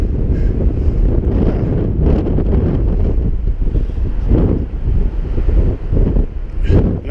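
Strong wind blows by the Firehole River in Yellowstone during fly fishing, buffeting the microphone with a loud, continuous low roar and gusty swells, while a voice is faintly heard underneath.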